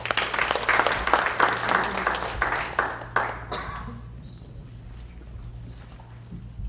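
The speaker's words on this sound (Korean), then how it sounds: "박수로 맞이해 주십시오" Audience applause welcoming a missionary speaker to the stage at a church prayer gathering, a dense burst of clapping for about three seconds that thins and fades into quiet room tone.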